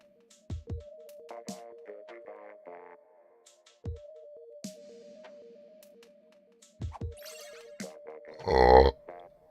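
A man burps loudly after drinking soda, a single short belch near the end, following scattered game-like beeps and musical tones in a quiet room.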